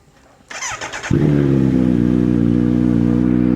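A Kawasaki Z900 motorcycle cranks and fires up after a brief starter whine, then settles into a loud, steady, close idle with a throaty rumble, no talking.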